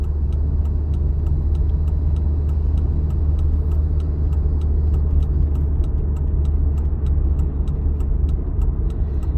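Inside a car during a driving exam as it turns off the road, a steady low engine and road rumble runs throughout beneath rapid, regular ticking of the right turn indicator.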